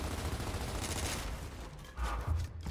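Rapid gunfire in Gears of War: Ultimate Edition rattles as a steady, fairly quiet stream of shots with a few louder bursts near the end.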